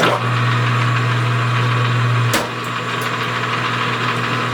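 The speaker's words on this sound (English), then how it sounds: "I'm going to run it in a couple gears here, and I usually do that to get the oil circulating" An engine runs steadily through a couple of gears to circulate its oil, giving a loud, even drone that shifts to a lower, quieter hum partway through as the gear changes.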